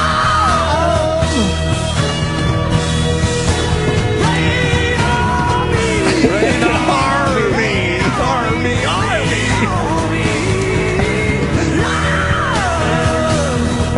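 A recorded rock-song scream plays loud and sustained, with wavering, gliding vocal yells over dense band music. It continues through the whole stretch.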